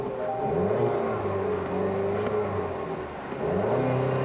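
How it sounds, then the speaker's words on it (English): 2017 Chevrolet Camaro RS with the base 2.0-liter turbocharged four-cylinder, running with a whiny drone and shifting engine pitch, steady and fairly close, no talk. "I don't like the whiny noises that the 4-cylinder is making."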